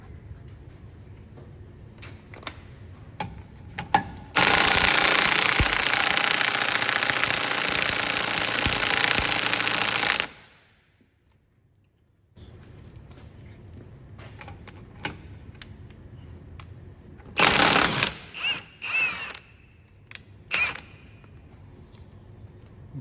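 Milwaukee impact wrench loosening the hub centre bolt on an Audi A4 B8, one loud continuous hammering burst of about six seconds, then a short silence and a few lighter clanks and brief follow-up rattles.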